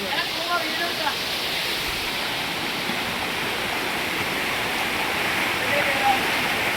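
A forest waterfall in Wayanad, heard while trekking over rocky hillside, gives a steady broadband rush of falling water that stays even and close throughout.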